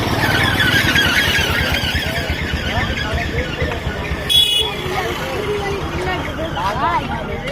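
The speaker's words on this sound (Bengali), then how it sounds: "সে দেখেন প্রচণ্ড মানুষের সমাগম" A dense roadside crowd on the way to the Furfura Sharif jalsa, with loud close babble of many voices mixed with horn toots, squealing and passing motor traffic, while people talk nearby.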